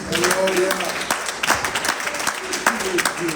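Church congregation applauding steadily over a lively, reverberant room, with crowd voices and scattered claps mixed in throughout.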